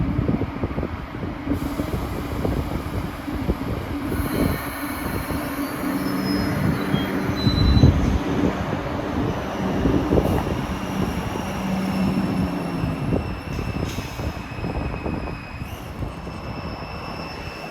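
A Boston MBTA UTDC subway car rolls past with a continuous rumble, clanking wheels and screeching squeals from the rails, heard close and loud throughout without speech.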